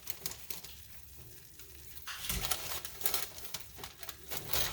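A candy mixture bubbling toward a full boil in a pot as it is stirred, a soft hissing sizzle that grows louder partway through, close by, with no talking.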